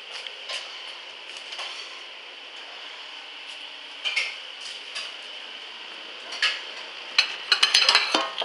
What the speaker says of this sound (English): I'm taking out a bowl.